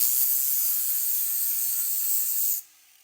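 An angle grinder fitted with an Ezarc ceramic flap disc cleaning up welds on metal: a bright, hissing abrasive rasp, close and steady for under three seconds, then abruptly stopping.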